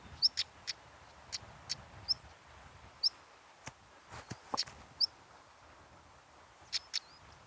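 A stonechat calling outdoors: a series of short, sharp tick and chip notes scattered across several seconds, with a few thin whistles, fairly close and clear over quiet background.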